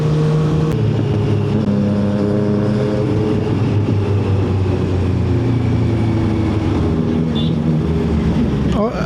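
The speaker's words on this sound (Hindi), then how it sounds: "ये आवाज़ है" A Honda CBR650R motorcycle exhaust rumbles and revs loudly and continuously nearby, with shifting pitch as the throttle rises and falls, no clear talking.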